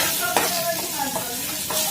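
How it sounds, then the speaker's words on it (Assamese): Fish frying in hot oil gives a soft, close sizzle with faint stirring and light clinks of a pan, quiet and continuous for a brief moment. "মাছ ভাজা তেলতে ভাজি আছো"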